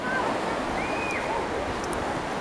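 Constant broadband rush of a waterfall spilling beside a natural pool near Otavalo, Ecuador, heard from close by as a steady wash, with faint brief tonal chirps riding over it and no speech.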